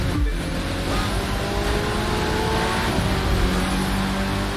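Engine of a Spyker C8 Aileron sports car in The Crew 2 racing game, a steady loud drone that climbs gradually in pitch as it accelerates, continuous and close with no voices.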